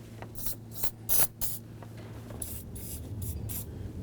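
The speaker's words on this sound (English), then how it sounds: "let's continue on to spraying the pin area. That's going to help us drive these out." Short hissing bursts of aerosol lubricant sprayed on a door hinge pin of a Chevy S-10 pickup, about eight quick squirts in an irregular rhythm, close up against a quiet background with a low hum.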